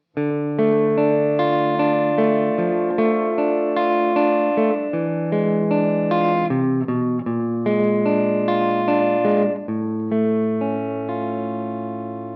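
Distorted electric guitar plays the chordal intro of a song, notes ringing and changing steadily with a saturated, sustained tone and slight effects, no voices.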